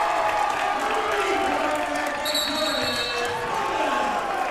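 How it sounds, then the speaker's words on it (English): A gym crowd at a men's college basketball game, Logan against SWIC, roars and hollers after a made three-pointer, a loud steady wash of cheering with a bench shouting and a commentator talking over it. "Now the crowd's starting to holler"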